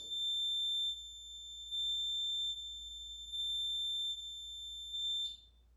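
A REM pod paranormal detector beeps in a long steady electronic tone, pulsing on and off four times in a quiet room with a low background hum, no voices.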